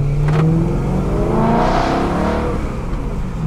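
A V8 car engine revs up close and loud, a deep rumble that rises in pitch and holds before easing off.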